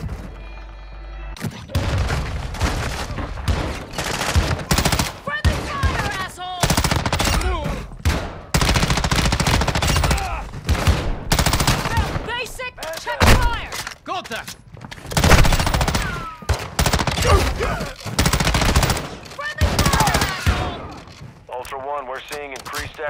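Rapid automatic gunfire and explosive bursts from a military shooter video game, loud and dense through most of the stretch, with radio-style voice callouts heard between and over the shots.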